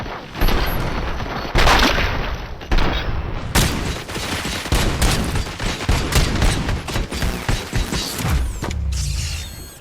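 Gunfire in the video game RoboCop: Rogue City, dense bursts of rapid shots and heavy impacts firing continuously and loudly, with mechanical clatter between volleys and no talk.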